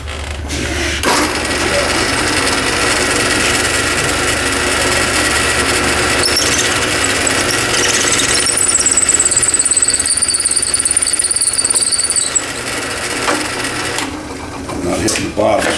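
A drill press with a quarter-inch bit bores a pen blank in a jig, giving a loud, steady motor whine that runs throughout, with a thin high squeal partway through.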